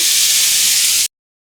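Sliced bitter gourd hits a hot pan with green chilies for a quick fry, setting off a loud, steady, bright hiss that cuts off abruptly.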